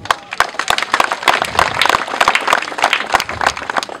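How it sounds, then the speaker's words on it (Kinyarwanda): A small group claps for several seconds, brisk uneven hand claps close by, steady in loudness throughout. "ikomera amashyi ko ushinzwe umutekano"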